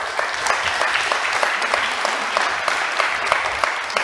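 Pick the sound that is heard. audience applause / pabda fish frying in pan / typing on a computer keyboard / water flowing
audience applause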